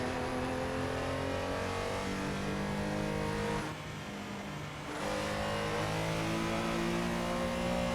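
A simulated race car engine on the 7.2 km extended Nemuno Žiedas circuit in Lithuania, revving steadily with a sustained tonal drone, briefly dropping off as the car lifts, then pulling hard again, close and continuous.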